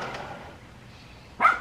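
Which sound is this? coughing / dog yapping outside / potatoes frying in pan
dog yapping outside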